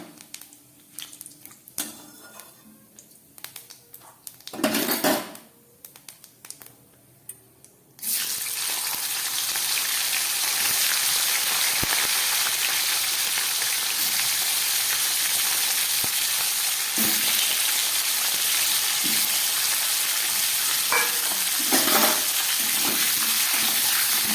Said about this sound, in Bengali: এই তেলের মধ্যে দিয়ে দিচ্ছি আমি জিরে ফোড়ন আর দিয়ে দিচ্ছি দুটো ছোট তেজপাতা